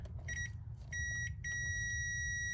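Shrill electronic beeps from a short-to-power electrical fault in a Ford E-250 van sound in short bursts, then hold as a long continuous tone, over a low steady rumble in the background.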